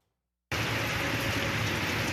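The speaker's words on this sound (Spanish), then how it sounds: "Fue una lluvia intensa que sorprendió a los guayaquileños la tarde y noche de este 7 de julio" Intense rain pours down on Guayaquil, Ecuador, on a July evening: after half a second of silence, a dense, steady roaring hiss starts abruptly and holds, close and loud.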